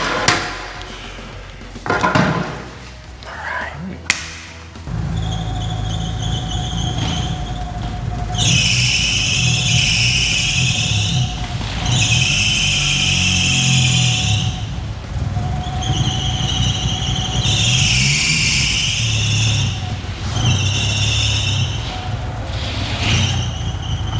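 A Mitsubishi Galant VR-4 engine runs and settles into a steady idle after some clattering knocks, with recurring high-pitched whining bursts riding over the low hum.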